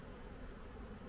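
Honeybees buzz at an apiary, a continuous dense hum filling the short moment with no break or voices.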